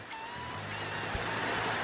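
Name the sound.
rain falling outside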